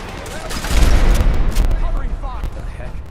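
Gunfire in Fallout 4: a dense, loud spell of crackling shots and rumbling bangs over a low roar, with voices shouting underneath.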